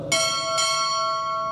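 At a U.S. Navy chief pinning ceremony, a ship's bell is struck twice in quick succession, two loud metallic clangs close together with a long ringing tail.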